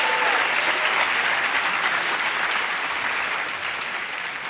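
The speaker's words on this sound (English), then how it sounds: "Let's give them another round of applause for that amazing opener." Audience at a high school percussion concert gives loud, dense applause after the opening piece, steady and sustained before tapering slightly at the end.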